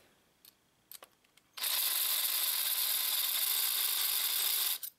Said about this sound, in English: the crowning attachment of the pipe cutters, to crown your barrel